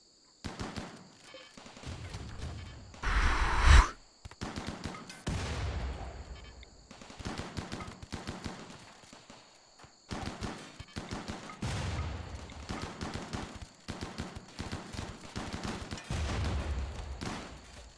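Mini turrets in RimWorld fire rapid bursts of gunfire, crackling volleys that come in uneven clusters with a louder blast early on, over low game ambience.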